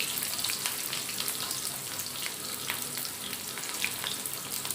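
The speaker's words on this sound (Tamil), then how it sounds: "1 கை வெங்காயத்தை போட்டு நல்லா செவக்க வச்சுருவோம்" Small shallots frying in oil for a spinach keerai koottu give a steady, close sizzle with constant fine crackling and spitting throughout, and nobody speaks.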